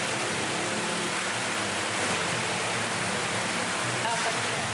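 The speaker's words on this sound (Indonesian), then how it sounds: "Hujan deras disertai angin kencang dan petir melanda seluruh wilayah di Kabupaten Maros" Heavy rain with strong wind during a storm in Maros Regency, South Sulawesi, a loud, dense, unbroken roar of downpour filling the whole clip with no pauses.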